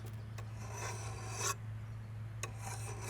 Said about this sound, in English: You can still use it, but you are going to want to file that edge down.